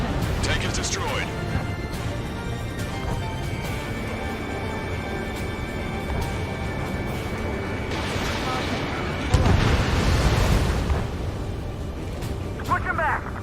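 Explosions boom as a tank is destroyed during an air combat mission in Ace Combat 7, a heavy rumbling blast that swells midway over constant engine roar and radio chatter from voices throughout.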